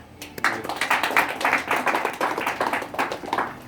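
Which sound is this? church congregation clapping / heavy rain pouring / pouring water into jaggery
church congregation clapping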